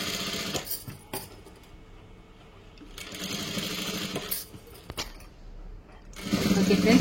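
A sewing machine stitches up close in short bursts of rapid mechanical chatter, separated by quieter pauses, with a louder run near the end.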